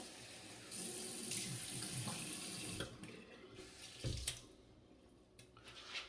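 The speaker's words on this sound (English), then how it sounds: "So let me get the face wet here, and we'll get going." A bathroom tap runs steadily into a sink as water is splashed up to wet the face before a one-handed shavette shave, with splashing and handling noises toward the end and no talking.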